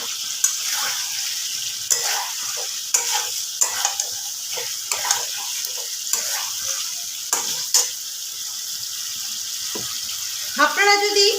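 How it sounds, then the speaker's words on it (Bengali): Potatoes frying in ghee with cooked-down spice paste, a steady sizzle under repeated stirring and scraping taps, ending in a brief burst of louder clatter. "মশলা খুব ভালোভাবে কষানো হয়ে গেছে, আমি এর মধ্যে আলুগুলো দিয়ে দিলাম।"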